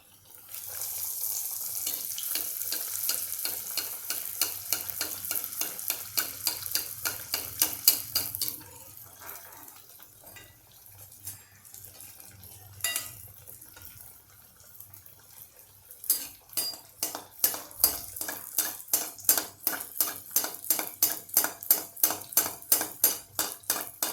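Poha cutlets fry in a pan while one is lifted out and the next set in, with rapid rhythmic scraping and clinking of a utensil over a steady frying hiss and no talking.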